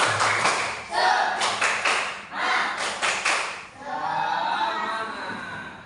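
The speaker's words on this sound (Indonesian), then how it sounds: "Tepuk semangat." A primary school class performs a rhythmic clapping chant together in a classroom, sharp unison claps in quick patterned groups mixed with children's chanting voices, loud and close.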